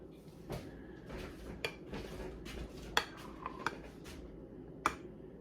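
A spoon scrapes and smooths a brownie trifle layer around a bowl, giving soft continuous scraping broken by several sharp clinks of metal against the bowl, close and quiet with no talk.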